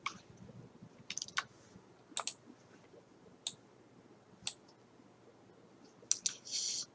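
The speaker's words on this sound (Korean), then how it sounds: "아이콘을 클릭을 해서" A computer mouse clicks on an icon while working in PhotoScape: sharp, isolated clicks close by, some single and some in quick pairs, spaced irregularly over quiet room tone.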